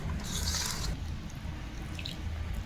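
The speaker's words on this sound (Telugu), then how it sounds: "ఇలా కలిపాక కొంచెం కొంచెం వాటర్ పోసుకోవాలండి" Water trickles in small amounts onto flour mixed with spinach for paratha dough, a quiet, close pouring and dripping sound that briefly fades and returns.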